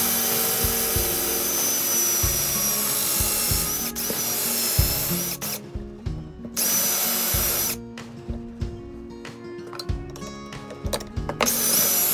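A power drill whirs in repeated bursts as it bores into an olive wood pen blank, the motor pitch rising and dropping between short pauses and grinding pushes.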